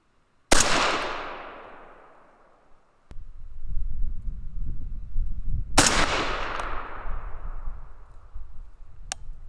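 Two loud, sharp rifle shots from a 6mm ARC firing 87-grain VMAX rounds ring out several seconds apart outdoors, each with a long echoing decay, and wind rumbles against the microphone between them.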